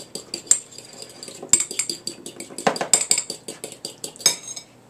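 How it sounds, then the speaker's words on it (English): A dressing with fresh ground black pepper whisked briskly in a bowl, a rapid run of close metallic clinks and scrapes as the whisk strikes the sides, steady and fairly loud with no talking. "So, you want to whisk that up a little bit."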